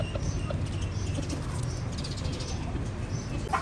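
Pet pigeons cooing inside a cage, a steady murmur of low cooing and soft bird calls filling the space at moderate level, with no talk.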